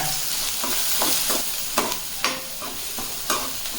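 Curry leaves with onion sauté in a pan over medium heat, a bright continuous sizzle with a few sharp scraping stirs of a spoon, close up and without speech.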